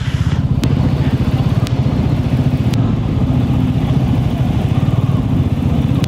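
A motorbike engine drones loud and steady while riding from Siliguri's Sevoke area into Sikkim. It throbs in a constant pulsing rhythm at a near-even pace, with occasional faint clicks and no voices.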